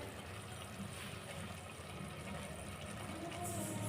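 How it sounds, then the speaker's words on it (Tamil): Prawns simmer in water for prawn biryani, the pot giving off a steady, close rushing bubble that holds constant throughout. "ப்ரான் போட்டதும் அப்படியே தண்ணியெலாம் கொதிக்குது"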